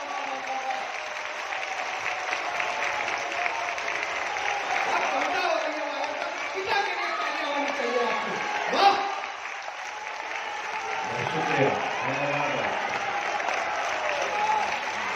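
Audience applause at a kavi sammelan poetry recital in Bageshwar, a steady dense clapping from a large crowd that swells and holds for the whole stretch, with a few voices faintly mixed in.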